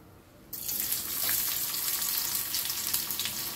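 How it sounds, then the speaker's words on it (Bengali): Onions hit hot oil left from frying pointed gourd, and after a moment of near quiet a sudden loud sizzle bursts out and keeps hissing steadily close by. "তেলটার ওপরে আমি পেঁয়াজ দিয়ে দেব"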